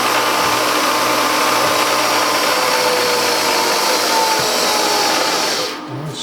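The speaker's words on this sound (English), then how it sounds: "I think it's going in with a counterbore tool, so it's pecking" A counterbore tool pecks a hole into a Kerzel cylinder head on a machine, making a loud, steady whirring machining drone that holds unbroken before dropping away just at the end.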